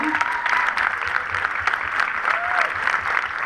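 Audience applause at a film festival closing gala, steady dense clapping from a large crowd held for several seconds at an even level, close and full, with a brief voice faintly heard over it.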